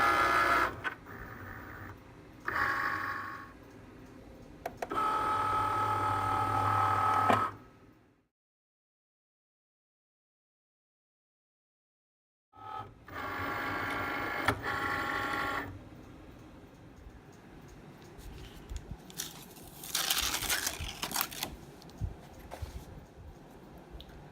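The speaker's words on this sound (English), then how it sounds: "The machine's going to read those black marks. Those are the alignment marks, and it'll know exactly where to cut once it's done reading those." A vinyl cutting machine scans printed black alignment marks and then cuts Halloween monster banner pieces, giving steady mechanical whirring and chattering in bursts, a long silent pause, then more motor buzzing and high-pitched cutting passes, close and alone.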